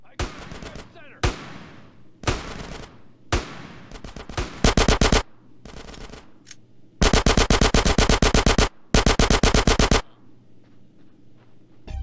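Gunfire in GTA San Andreas during a gang mission: several single loud cracks that trail off into echoes, then long rapid automatic bursts, close and sharp, over a low background hum.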